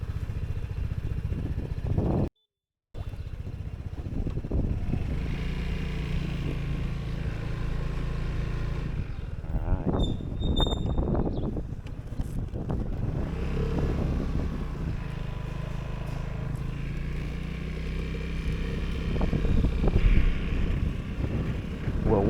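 A Vespa GTS 300 Super Sport scooter runs along a country road on a commute, its steady engine drone mixed with gusting wind buffeting the microphone. A brief dropout near the start and a faint voice appear midway.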